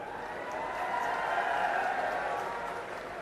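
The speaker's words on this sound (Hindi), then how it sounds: "ये इंतजार करना और बिना कहे तालियां बजाना" A crowd claps steadily at a political rally speech in Adampur, Punjab, the applause swelling slightly in the middle before settling, heard at a moderate distance without talk over it.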